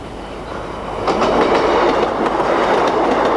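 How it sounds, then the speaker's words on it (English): Class 156 Sprinter diesel train passing on the rails, a loud steady rumble that swells after a second, with rhythmic clickety-clack from the wheels over the joints. "Through the weeds, a Class 156 Sprinter is nearly ghostly as we bid farewell"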